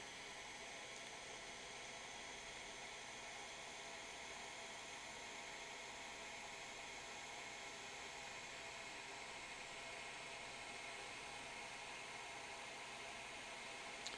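A blow dryer runs on a freshly washed painted miniature, a steady airy hiss with a low motor hum, constant and fairly close, with no talking over it.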